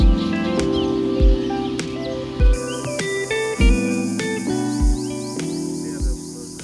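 A drongo calls in a series of varied whistles and chirps, mimicking other birds, with sharp notes repeating against a bed of sustained tonal background sound; the bird is fairly close and clear.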